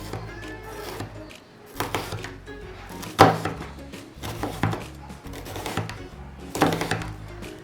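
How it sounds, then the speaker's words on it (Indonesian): A knife slices half an onion on a cutting board, making a series of irregular, close woody knocks and thunks spaced about a second apart, with soft rubbing in between and no voices. "Pertama-tama, iris setengah buah bawang bombay"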